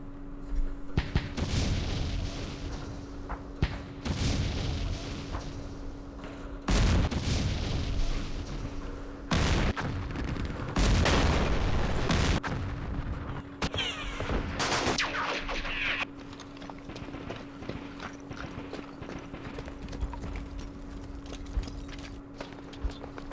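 Artillery bombardment in the World War II East Front war game Campaign Series East Front, a series of heavy booming impacts and crackling explosions spaced across the stretch over a constant low hum.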